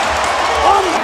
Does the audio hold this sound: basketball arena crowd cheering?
yes